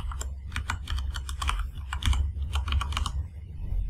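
Password being typed on a computer keyboard during a software login: a steady run of quick, close key clicks with short pauses, no talking.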